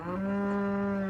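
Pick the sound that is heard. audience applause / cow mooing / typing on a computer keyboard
cow mooing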